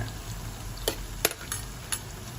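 Oil sizzles and bubbles steadily as french fries fry, with a few sharp scraping knocks from stirring in the pan.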